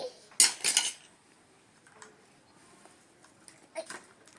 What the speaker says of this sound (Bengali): এটা একটা বড় চামচি আর একটা ছোট্ট চামচ